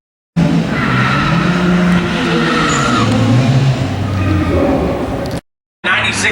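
A 1996 Acura Integra launches down a drag strip, its engine revving hard through rising gear pulls, loud and close at first and then fading, before the sound cuts out briefly and a second burst of noise returns.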